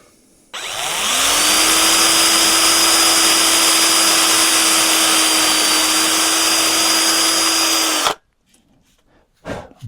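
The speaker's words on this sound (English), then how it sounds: "Right, where's my drill?" A power drill whirs at a steady high-pitched whine for about seven seconds, then stops, leaving a few faint clicks and handling noises.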